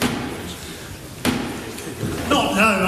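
A single sharp knock on the wooden door of the House of Commons, struck by Black Rod, rings out once in a hushed chamber with a faint murmur around it, before voices begin near the end.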